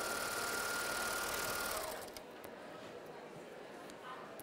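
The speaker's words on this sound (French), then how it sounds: "Et je fais raser ma machine pour que l'extrémité soit nickel." Baby Lock four-thread overlock machine serging very fine fabric at a trade show, a fast steady whir that stops after about two seconds, close, with a quiet room behind.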